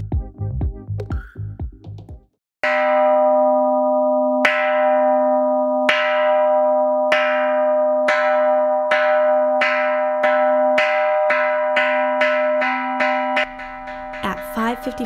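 A Buddhist temple bell at a Koyasan temple lodging rings at dawn before 6 a.m. ceremonies, struck about a dozen times in steady succession, each loud metallic strike leaving a long sustained hum that overlaps the next, after a brief burst of other sound.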